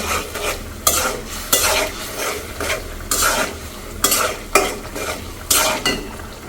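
Spice paste stirred and fried in a pan for a rohu fish head and Malabar spinach curry: steady scraping strokes under a continuous sizzle, with periodic louder scrapes about every second, close and fairly loud, no talk.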